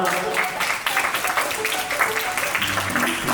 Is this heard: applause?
yes